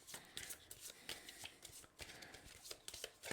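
Playing cards for a Flesh and Blood trading card game being shuffled by hand, giving soft, irregular riffling and sliding with light taps of the deck, close and fairly quiet.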